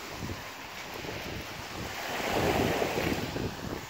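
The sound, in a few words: ocean waves on a beach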